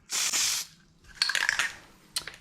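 Spray can laying a Plasti Dip coat onto a 2019–2021 Toyota RAV4 emblem, with short hissing bursts up close: one long spray, then a run of choppy spurts and a final brief burst, with no talk.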